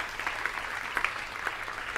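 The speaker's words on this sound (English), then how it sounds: "Let's just clap the Lord on that." A church congregation claps in praise, a scattered, modest round of handclaps with a few sharper claps standing out, moderately close and fairly soft, with no voices over it.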